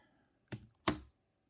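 Two sharp keystrokes come from an iMac computer keyboard as a reboot command is typed, each a close, quiet click with a short pause between them and silence around them.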